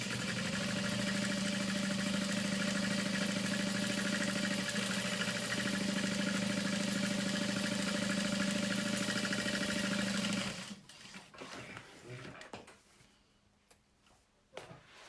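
A sewing machine stitches along the outer edge of a saddle bag in a steady, loud mechanical whir with a constant hum for about ten seconds, then stops, leaving scattered handling clicks and shuffling.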